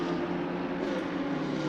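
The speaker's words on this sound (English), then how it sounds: "With a different sounding engine, you can clearly hear when the Mercedes approaches the cameras." A Mercedes GT3 race car closes in during the Mugello 12-hour endurance race, its engine a steady, loud drone holding the same tone throughout with no pauses or talk.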